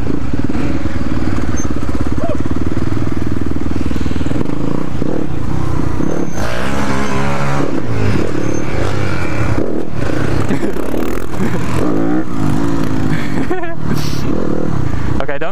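A motorcycle on a racing circuit revs loudly and close, its engine note rising and falling with sharp bursts that fit backfires, while voices talk over it throughout.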